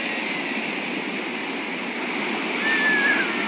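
Sea waves wash onto Chandrabhaga beach in Puri, Odisha, a steady broadband roar of surf that swells slightly louder near the end as water rushes closer.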